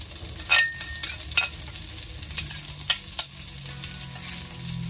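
Maultaschen and onions sizzle in a pan while a scraper stirs them, sending several sharp scraping strokes over a constant close frying hiss.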